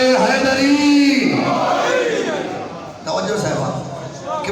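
A crowd at a Shia majlis gathering shouting the Nara-e-Haidari slogan, a single raised voice leading into loud massed shouting from many voices.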